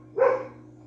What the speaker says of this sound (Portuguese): As minhas cachorras estão bem loucas. Deve ter algum bicho no parque.